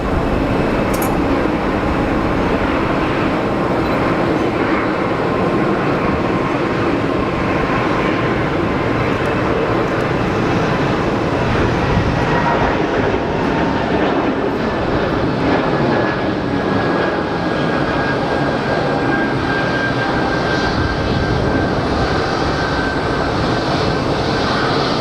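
An airliner takes off at Geneva Airport, joining the runway partway down: a loud, steady jet roar with broadband rumble that holds for the full stretch.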